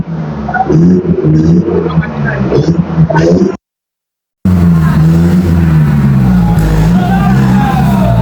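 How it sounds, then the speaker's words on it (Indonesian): A car drives past on a street near a market vegetable stall, its engine rumble rising and fading close by, under steady talk, with a short gap of silence partway through. "Neng, awas neng, ada mobil neng. Oh, ada mobil awas neng."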